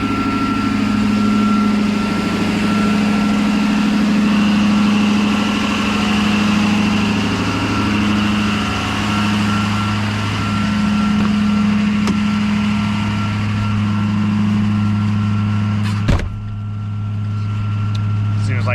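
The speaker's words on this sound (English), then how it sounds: "That fast idle is very loud on this vehicle." Small bus seating about 23 people, its engine held at a loud fast idle: a steady, close drone with a constant hum running throughout, one brief knock near the end, and a voice talking over it.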